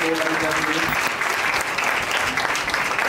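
An indoor audience claps loudly and steadily to welcome a guest at a lecture-series event, a dense continuous applause with a voice heard briefly at the start.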